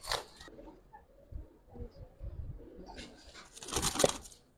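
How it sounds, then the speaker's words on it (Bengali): A group of Giribaz pigeons coos softly in low, intermittent bursts, with a brief flutter of wings and scattered bird noises at moderate distance. "কবুতর গুলো যে কেল্লি কেমন করে"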